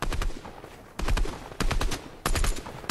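Rapid automatic P90 gunfire in the Fortnite video game, fired in four loud sustained bursts separated by short pauses, no voices over the shots.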